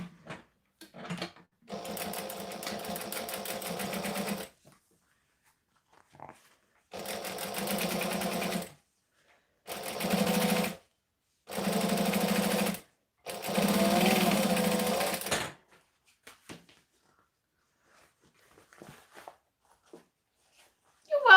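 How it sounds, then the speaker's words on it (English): Sewing machine top stitching at a long stitch length, five bursts of rapid steady whirring and needle clatter, each a few seconds long and separated by short pauses, close and clear with no talking. "I'm on a 3 3/4 stitch length, and I'm just going to top stitch both of these down"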